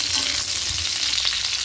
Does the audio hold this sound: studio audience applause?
no